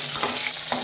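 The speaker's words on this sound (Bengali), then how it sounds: "একটু লাল লাল করে মিডিয়াম আঁচে ভেজে নেব।" Pointed gourd pieces coated in turmeric fry in oil over medium heat, a close, continuous sizzle with light stirring noises and no talk.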